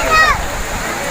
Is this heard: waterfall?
yes